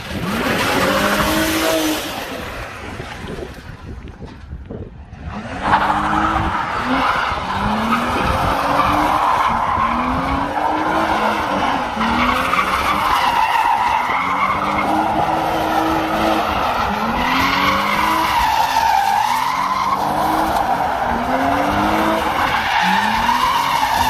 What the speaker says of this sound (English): Going to do some donuts now and see what it's like.